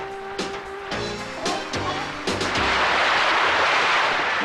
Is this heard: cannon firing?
yes